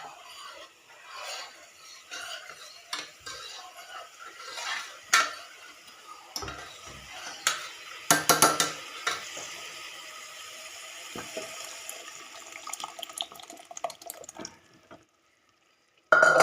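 Dal for dal dhokli goes into hot oil in a pan and is stirred, giving a run of scraping and clinking utensil sounds with faint sizzle, busier near the middle, then a brief quiet before a sharp knock at the end.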